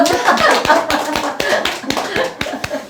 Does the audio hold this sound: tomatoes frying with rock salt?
no